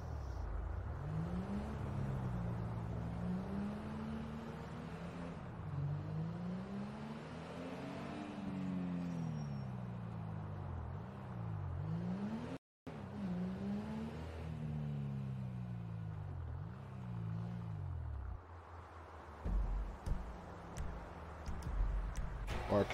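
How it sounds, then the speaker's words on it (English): Cars in the video game GTA V rev and shift up repeatedly, their engine pitch rising and falling in a cyclic pattern, loud and close, with a brief dropout midway and quieter traffic rumble toward the end. "there's probably cars passing"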